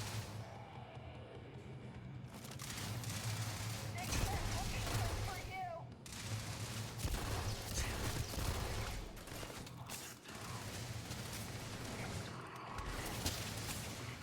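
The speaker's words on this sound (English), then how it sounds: "Now if I try and spam fire it, yeah, you try and spam fire it, it dances all over the place." Spec19 laser pistol being spam fired in Starfield, heard as repeated energy-weapon shots spread through a long stretch, with someone talking over them throughout and brief gaps between volleys.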